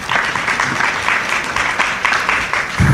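An audience at a PechaKucha Night event in Istanbul applauds steadily for a few seconds, a dense, even wash of clapping that stays loud throughout.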